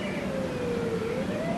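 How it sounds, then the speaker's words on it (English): A wailing siren sweeps slowly in pitch over steady background noise, heard at a moderate distance outdoors. "Sirens."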